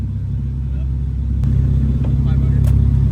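A BMW N55 or N54 turbocharged car engine rumbles deeply at close range and swells louder partway through, with people talking over it.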